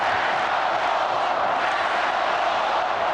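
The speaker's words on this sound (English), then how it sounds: "Crowd chanting, let's go Bulls." A dense basketball arena crowd roars steadily during the 1993 NBA Finals between the Phoenix Suns and Chicago Bulls, a loud continuous wash of massed voices with no distinct rhythm standing out.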